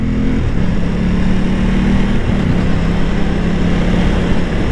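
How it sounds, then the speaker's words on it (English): An Aprilia Tuono 660 motorcycle engine drones loudly and steadily, with the pitch stepping down in quick stages as it downshifts with rev matching, all under heavy wind noise. "Try the downshift, fifth, fourth, third, second. As you can see, rev matches."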